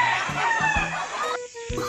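Chickens clucking and crowing close by, with overlapping harmonic calls and a few short bursts, busy and fairly loud throughout.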